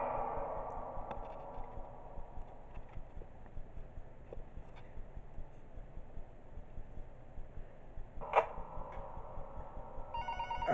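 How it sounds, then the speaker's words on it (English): A telephone rings in the horror video game Five Nights at Powerpuff Girls, a brief ringing burst that comes late, after a long stretch of quiet thudding ambience with faint clatter. "Alright, we do get a phone call."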